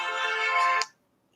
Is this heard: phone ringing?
yes